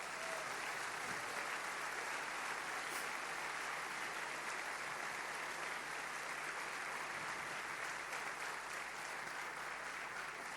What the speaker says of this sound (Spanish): Vamos a dar un fuerte aplauso a Jesucristo